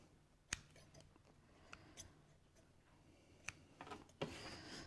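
Scissors snip sewing threads on a newly stitched cosmetic bag. A few faint, brief clicks come at spaced intervals over a low, quiet background.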